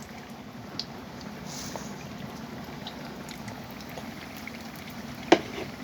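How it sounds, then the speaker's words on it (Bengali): Squash chops frying in oil in a home kitchen give a soft, steady bubbling sizzle, faint and continuous, with one brief sharper crackle near the end and no talking. "কোয়াশের চপ ভাজছি আমি।"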